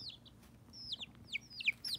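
Young chicks kept indoors in a bed at night give soft high peeping chirps and brief clucks, several short calls spread across the moment over a low steady background hum.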